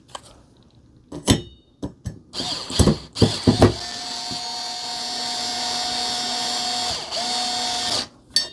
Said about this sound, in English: even though it's a lightweight electric screwdriver, it could torque it too much and strip the threads